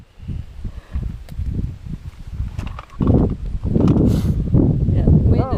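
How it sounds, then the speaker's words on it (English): Gusty wind buffets the microphone at an outdoor shooting range, with rumbling bursts that swell and build stronger in the second half, close and loud, with no voices. "Get a little breezy out here."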